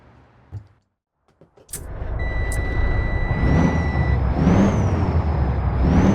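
After a few short clunks, a Cummins ISX 600 diesel engine in a Freightliner FLB truck from Euro Truck Simulator 2 starts and settles into a smooth, deep idle, then revs up and down in gentle swells.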